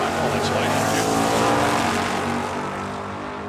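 Two drag racing cars, a Chevelle and a classic V8 Vega, roar off the line together in a loud, sustained engine blast with a broad rumbling drone, while an announcer talks over the noise.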